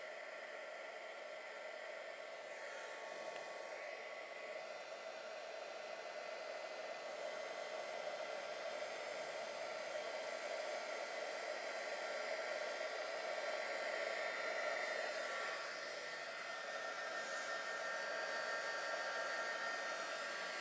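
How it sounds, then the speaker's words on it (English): A heat gun blows steadily for about twenty seconds, drying wet paint during a craft and jewelry-making demo, its continuous hot-air roar holding nearly constant with slight wavering and no voices over it. "I'm going to come in with my heat gun."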